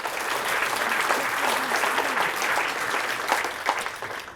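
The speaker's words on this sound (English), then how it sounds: "Let's give him another round of applause." A crowd at a sports awards dinner gives a round of applause, a full, even wash of many hands clapping that holds steady for several seconds.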